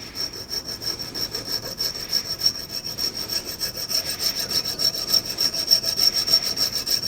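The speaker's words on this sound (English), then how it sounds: "So I'll take my jeweler saw." A jeweler's saw cuts through an annealed, softened piece of hard tool steel from a file, making quick, evenly repeated rasping strokes close up, steady and alone throughout.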